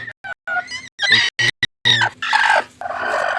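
A native (deshi) hen, set to brood eggs, clucks in a series of short, close bursts with brief pauses, followed by a louder, harsher squawking call at the end.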